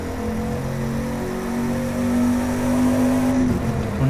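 A 1967 Shelby GT500 in the racing game The Crew 2 accelerates with a steady, loud engine drone rising in pitch through a gear, heard alone without talk.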